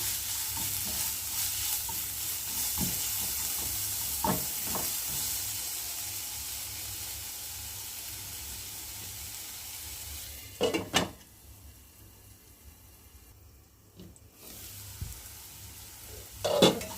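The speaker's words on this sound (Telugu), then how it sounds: "అల్లం వెల్లుల్లి పేస్ట్ కొంచెం పచ్చివాసన పోయినాక వరకు వేపాలండి" Ginger garlic paste sizzles in hot oil for an onion tomato dish, a constant frying hiss broken by spoon scrapes and clinks against the pan, with a quieter stretch near the end.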